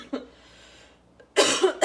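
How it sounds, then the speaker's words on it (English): A single cough, then a louder burst of coughing near the end, set off by sharp vinegar fumes from a boiling dill pickle brine on the stove. "you might cough a little because there is a lot of vinegar in it"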